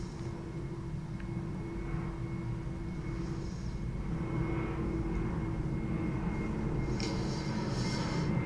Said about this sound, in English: It seems like planes are flying over constantly now